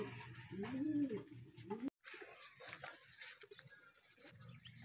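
Racing pigeons coo in soft, rolling bursts near the start, followed by scattered chirps and rustling with a brief voice in the background.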